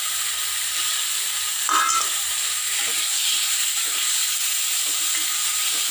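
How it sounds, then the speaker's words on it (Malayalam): Chopped tomatoes drop into a pan of sautéed onion, green chilli and ginger, setting off a loud, steady sizzle with a brief burst of crackle as they land. "ഇനി നമുക്ക് അതിലേക്ക് ഈ 2 തക്കാളി മുറിക്കിയത് ചേർക്കാം."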